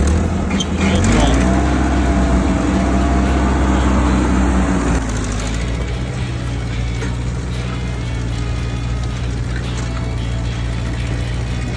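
A garden tractor in second gear pulls a plowing implement through wet soil in a beet patch. Its engine drones loudly and steadily, and the pitch drops and settles partway through.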